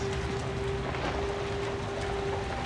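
Steady rain falls outside in the Outlast horror game, a constant wide hiss of drops with a faint low hum running beneath, unbroken for the whole stretch.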